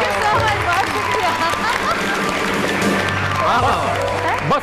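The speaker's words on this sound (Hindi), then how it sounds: "बहुत सारी तालियां" Studio audience clapping steadily throughout, dense and sustained at close range, with a voice talking over the applause for much of it.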